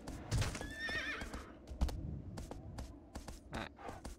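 A horse whinnies briefly near the start, then hooves clip-clop steadily at a walking pace, soft and fairly close, in the game Shadow of the Colossus.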